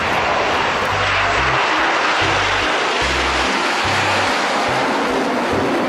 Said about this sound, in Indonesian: lihat ini teman-teman, ada pesawat terbang